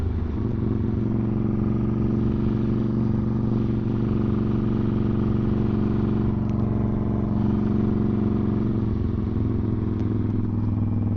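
Honda Grom motorcycle fitted with a swapped Ducati 1199cc engine, a steady loud rumbling idle with deep low throb held throughout, close by and alone without talk.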